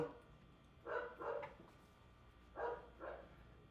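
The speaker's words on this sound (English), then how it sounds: "They're just barking out there," Dogs barking outdoors at a distance, two short pairs of faint barks separated by a brief pause, heard softly in an otherwise quiet indoor room.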